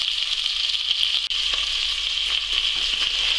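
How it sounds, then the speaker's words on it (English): Pieces of hare frying a few at a time in a hot pan, a loud, continuous close-up sizzle with a bright hiss and occasional crackle. "And just fry a few at a time."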